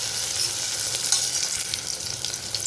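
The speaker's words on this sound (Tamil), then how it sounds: "அதுக்கு வந்து வெங்காயம் கொஞ்சம் ஸ்பைசஸ்லாம் போட்டு வதக்கிட்டுருக்கேன்" Onions and spices sautéing in a pan for tomato biryani, a loud, steady sizzle with stirring scrapes throughout, close up and with no voices.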